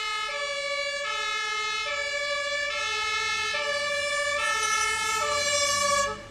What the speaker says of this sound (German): dass man das Sondersignal von Rettungsdiensten wie hier sehr gut hören kann